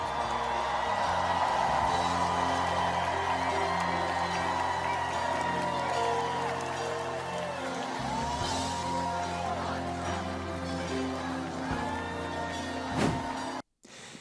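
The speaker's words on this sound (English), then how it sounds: "Donald Trump was met with wild applause at the RNC last night" A large convention crowd at the RNC roars with cheering and applause for Donald Trump, a dense, sustained wash of voices and clapping with musical tones mixed underneath, heard from across a big arena.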